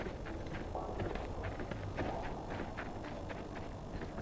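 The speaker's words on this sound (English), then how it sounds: "all the cows have gotten out now." Hooves of loose cows running in the video game Fallout: Brotherhood of Steel, a steady clip-clop patter of many hooves over a dense, loud game background, with no talk.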